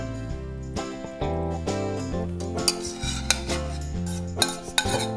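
Bolognese sauce is scraped from a pan onto pasta in a bowl, giving close metallic scrapes and clinks of a utensil on the pan, with short rhythmic strokes and a few sharp taps.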